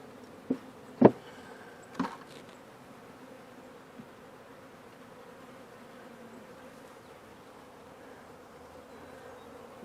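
Honeybees shaken from a hive frame give off a faint, steady buzzing, punctuated early by a few sharp knocks of the frame before the low insect drone carries on alone.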